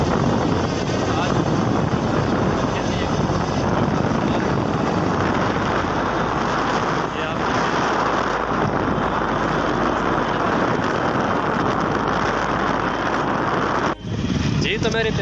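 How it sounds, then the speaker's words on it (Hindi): A motorcycle rides along a paved road past green fields, giving a continuous broadband rush of engine and wind, loud and close, with a brief dip near the end; someone talks over it. "मैं मोटरसाइकिल भी चला रहा हूँ"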